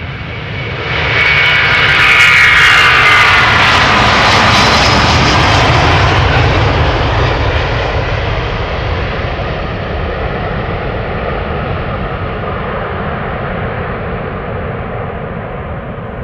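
A Delta Airlines Airbus A330-300, about 20 years old, outbound to Portland, Oregon, on the Polderbaan runway at Schiphol Airport: a loud, sustained jet engine roar that swells early, then slowly fades as the aircraft moves away.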